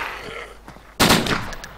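A sudden loud burst of gunfire erupts after a quieter stretch, dense and sharp like rapid shots in the video game DayZ Standalone.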